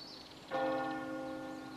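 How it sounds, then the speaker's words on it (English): Church bells ring out across Normandy, France, with one strong clear strike whose layered tones swell and then hang in a long, steady resonance, heard alone and fairly close. "For centuries, the church bells here have rung to call the faithful to worship."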